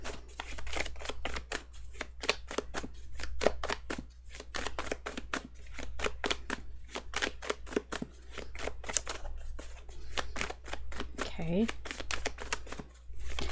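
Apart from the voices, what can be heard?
tarot cards being shuffled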